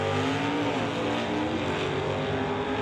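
A Copo Camaro stock eliminator drag car runs down the racetrack through the traps, its engine a loud, sustained, steady roar throughout with no talking.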